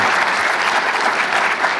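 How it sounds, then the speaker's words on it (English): A conference audience at the Humans to Mars Summit gives a panelist a big round of applause: dense, continuous clapping that fills the room without pause. "let's give Ari Tro another big round of applause"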